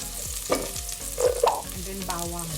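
Onion hits hot cooking oil in a pan, giving a close sizzle with short crackling bursts and stirring scrapes over a low humming background.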